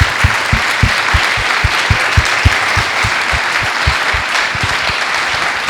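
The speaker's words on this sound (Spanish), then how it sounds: "Y otra vez un fuerte aplauso." Audience applause after a conference talk on digital consumer twins, a steady full round of clapping from a seated crowd filling the hall, no voices on top.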